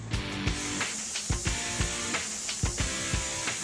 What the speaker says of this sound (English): You're going to force that sealant into all the ductwork, and wherever the escapes or the leakage is, it will fill those holes.